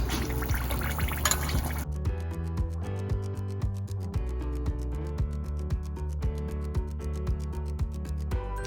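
Kai suthu murukku deep-frying in oil, a dense crackling bubbling that is loud at first, then settles into a steady hum of fine pops as the frying quiets.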